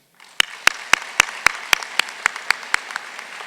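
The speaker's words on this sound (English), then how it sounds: "join me in applauding our faculty and staff for their work" At a community college commencement ceremony, crisp, evenly spaced handclaps ring out one after another at a steady rhythm, close and distinct against a quiet hall.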